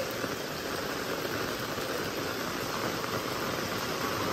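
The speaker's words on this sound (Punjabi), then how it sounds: "ਜਿਹਨੂੰ ਕਹਿੰਦੇ ਬਾਈ ਫੁੱਲ ਸਪੀਡ 'ਤੇ ਮੀਂਹ ਪੈ ਰਿਹਾ ਲਗਾਤਾਰ" Heavy monsoon rain pours nonstop over a Punjab village street, a dense, even hiss that fills the whole stretch at a steady level, close and unbroken, with no voices.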